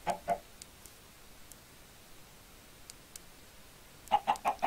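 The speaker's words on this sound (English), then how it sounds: "With my chickens" Chickens in a Minecraft farm give short clucks in two brief bursts, one at the start and another near the end, with a quiet stretch of faint game ambience between them.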